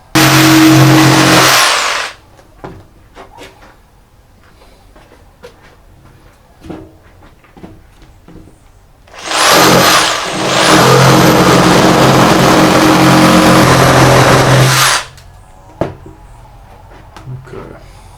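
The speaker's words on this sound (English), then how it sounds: "so I'll have to fix that using the jigsaw" Jigsaw cutting a wooden cabinet door, two loud sustained bursts of high-pitched buzzing, one short and one longer, separated by quiet handling noises.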